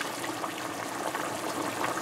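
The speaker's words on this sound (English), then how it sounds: "So you're gonna add water to cover your mangoes, as usual." Water pours steadily into a cooking pot to cover mangoes for a curry, giving a continuous, even rushing splash without pauses.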